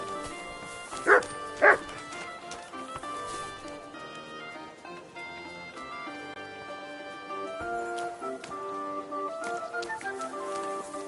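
A dog gives two quick, loud barks near the start, then falls silent while steady background music carries on to the end.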